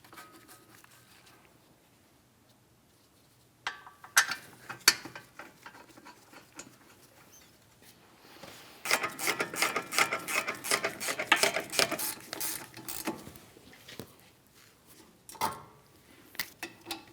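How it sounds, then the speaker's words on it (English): A ratchet tightening the caliper bracket mounting bolts on a Ford Edge, quiet at first, then a few sharp clicks followed by a fast run of ratcheting ticks and a couple of later clicks, close and alone. "Once both pieces are started in, we can snug them up and then torque them to 66 foot-pounds."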